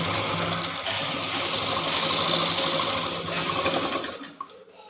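Electric sewing machine running a continuous stitch along the princess-cut seam of a blouse, a steady buzzing whir held close for about four seconds before stopping abruptly with a faint click.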